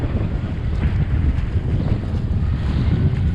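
Strong wind roaring and buffeting the microphone on a boat on rough open sea, a constant dense rumble with waves washing underneath.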